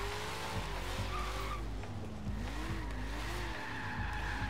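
A 3,000-pound 1970 Dodge Challenger muscle car in Forza Horizon 3 skids with sustained, wavering tire squeal over a low rumbling engine, loud and close throughout.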